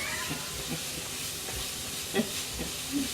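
Onions frying in a pan at a family cooking reunion give a dense, steady sizzle, with a few scraping stirs and soft pops on top.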